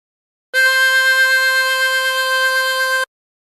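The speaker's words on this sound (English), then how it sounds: "And blow into 4." One harmonica note blown on hole 4, held evenly for about two and a half seconds, close and clean, with silence before and after and no voice.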